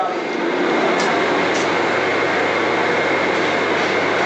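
Steady, loud rumble of the 13145 Kolkata Radhikapur Express, running from Kolkata to NJP via Malda, filling the whole stretch as one continuous roar with no break.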